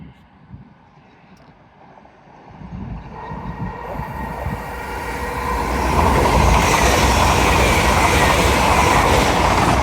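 LNER Intercity 225 train from London King's Cross to Leeds pulling into Doncaster station on the East Coast Main Line, a low rumble building steadily louder and closer over the clip, with rolling wheel noise and a faint voice early on.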